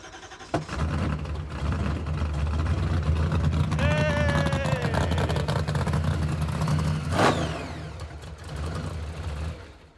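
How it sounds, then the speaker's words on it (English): The engine of a 1957 Glass Craft car fitted with an old Hilborn cast throttle body cranks, then catches into a loud, rough, sustained running rumble with a brief rev, close by, with brief talk over it. "Trying to get it started now with the new old throttle body."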